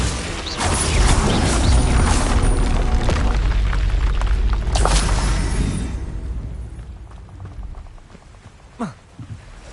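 Magic spell blasts and explosions in Hogwarts Legacy combat, loud layered bursts and rumbling impacts that thin out toward the end into a few sharp separate hits.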